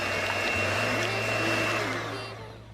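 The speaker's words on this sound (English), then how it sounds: "I'm going to use my hand mixer to mix everything together" An electric hand mixer whirs steadily through sweet potato casserole ingredients, a loud, even motor whine with a slight pitch shift partway through, then fading as it slows near the end, heard alone up close.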